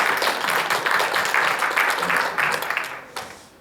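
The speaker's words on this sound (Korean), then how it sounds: "다시 한번 큰 박수 부탁드립니다" A church prayer-meeting congregation clapping in a sustained wave of applause that fills the room, holding steady and then tapering off toward the end, with some voices mixed in.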